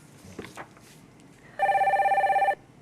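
A telephone rings for a viewer's call-in to a Korean stock-consultation broadcast, one loud, steady electronic trill lasting about a second, following a few faint background sounds.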